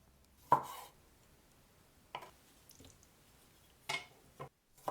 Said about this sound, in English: Cut into 10 grapes.